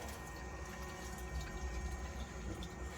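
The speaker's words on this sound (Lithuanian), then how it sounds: "Tai pompa pumpuoja greičiau negu yra ta skylė." A pump draws water out of a tank being rinsed with citric acid, a steady low hum over a continuous rush and splash of flowing water, close and even throughout.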